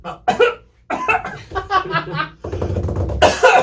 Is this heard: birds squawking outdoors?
no